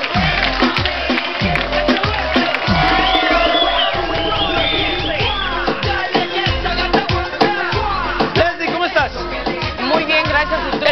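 Studio audience on a Spanish-language TV talk show breaking into loud applause and cheering, with whoops and excited crowd noise over music with a steady beat throughout.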